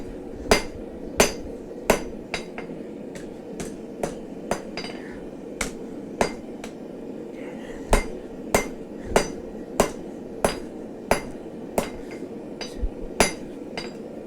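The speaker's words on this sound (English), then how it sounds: "Oh man, these hammer strikes feel way better." Hammer strikes ring out on an anvil at a forge, a steady run of sharp metallic hits about every half second to second, close and clear over a low room hum.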